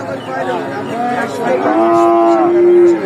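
A Friesian heifer at a busy livestock market lows in one long, loud, drawn-out moo that swells toward the end, with faint crowd chatter underneath.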